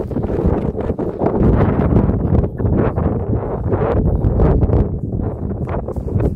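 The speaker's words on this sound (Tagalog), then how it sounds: "Hoy, ang hangin." Strong wind buffets the microphone continuously, a loud rumbling roar with gusts that never let up.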